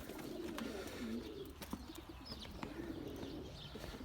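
Tumbler pigeons in a breeding loft give low, soft repeated coos close by, quiet overall, with faint background rustling and no talking.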